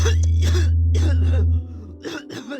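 A few harsh coughs in quick bursts, close and loud, over a strong low electrical hum that drops out partway through.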